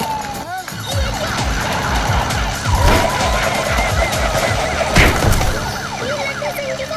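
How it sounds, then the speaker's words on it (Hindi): A cartoon emergency siren wails continuously through a bustling scene, steady and fairly loud, with traffic-like background noise beneath it. "ये सायरन की आवाज कहाँ से आ रही है?"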